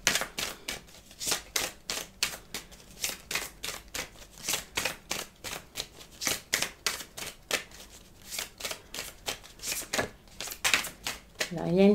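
Lenormand cards shuffled close up, a steady run of rapid flicking, riffling snaps in a regular rhythm throughout, fairly crisp.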